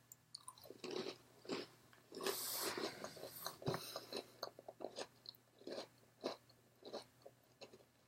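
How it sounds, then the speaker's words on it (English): Someone chews the last bite of a cookie, with soft, close, crunchy bites repeating steadily in a quiet room. "And I'll take the last bite of my cookie."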